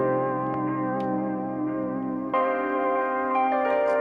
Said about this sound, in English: I am going to throw that air tube drive because I want more dirt in there.